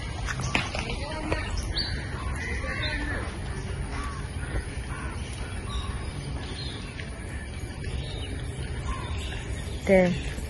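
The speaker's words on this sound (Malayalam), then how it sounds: "ദേശാടന കിളികളൊക്കെ വന്നിട്ടുണ്ട് അവിടെ," Faint calls of migratory birds, including distant crow caws, sound intermittently over low outdoor ambience near a rubber plantation, with a sharper call near the end.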